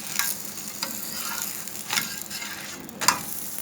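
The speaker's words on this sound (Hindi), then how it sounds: "ये कम आंच में हमने थोड़ा पकाना है पराठा" An egg paratha cooks on a low flame with a soft, steady sizzle, faint and close, broken by a few light scraping touches.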